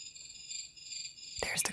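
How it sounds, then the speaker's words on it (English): Crickets chirp in a faint, continuous high trill inside an American Girl doll house setting. A short burst of brighter chirps or tweets comes near the end. "There's the crickets"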